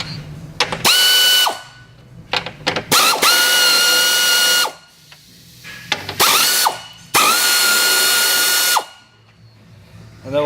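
Pneumatic air tool with a 15mm socket loosening front strut bolts on a 2001 Oldsmobile Intrigue, several loud bursts of rattling impact, each lasting one to two seconds, separated by short pauses and brief clicks.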